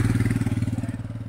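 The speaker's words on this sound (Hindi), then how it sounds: "उन्होंने बाइक चलानी सीखी है तो चला रही है मेरी बाइक" A motorcycle is ridden on the roads around Leh, Ladakh, and its engine throbs with a fast, regular pulse. The sound is loud and close and runs steadily the whole time, with no talk.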